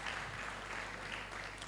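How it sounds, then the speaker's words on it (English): Audience applause for the organizers of a digital content conference, a brief steady wash of clapping filling the room at moderate level with no voices over it. "I think we need to give a round of applause to the organizers"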